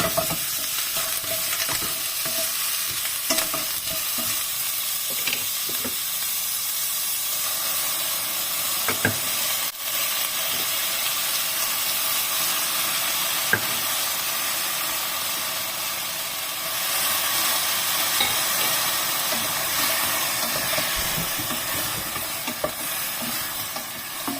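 Food sautés in a frying pan with a constant bright sizzle and hiss, close and fairly loud. Scattered utensil scrapes and taps from stirring break through the sizzle at irregular intervals.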